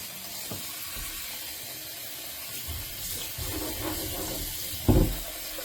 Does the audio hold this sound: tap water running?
yes